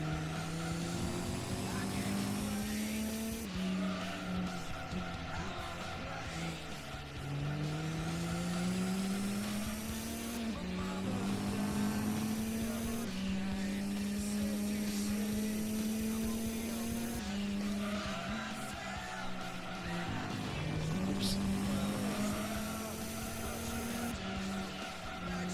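A race car in Gran Turismo 2 on simulation tires, the engine droning and rising through repeated gear pulls, with tire squeal at times and a voice talking underneath.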